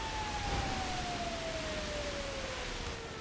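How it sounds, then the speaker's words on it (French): Fire truck sirens from a video game, a single steady wailing tone slowly falling in pitch, faint and distant behind a dense wash of broadband noise, with no speech. "C'est des camions de pompiers"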